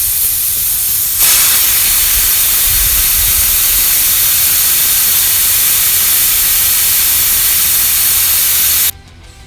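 Air rushes from an off-road 4x4 tire's valve stem as the core is pulled out, a loud, broad, steady hiss that starts abruptly and cuts off sharply near the end.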